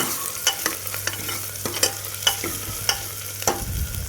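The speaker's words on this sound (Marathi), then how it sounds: "आता हे परतून घेऊया म्हणजे पाव चमचा हळद टाकूया चांगलं परतून घ्यायचं" Crushed ginger-garlic sautéed with turmeric for mutton paya soup: a continuous close sizzle with repeated scrapes and clacks of a spoon stirring the pan, no voices.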